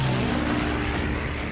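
A WW2 fighter plane's engine growls in a dogfight with a Japanese plane, giving a continuous, loud, throaty roar with a brief rising whine near the start.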